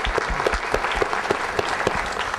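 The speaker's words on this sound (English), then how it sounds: "Let's give them all a round of applause." Town hall audience applauding military veterans in the room, a brief burst of dense clapping from a crowd, fairly close and continuous.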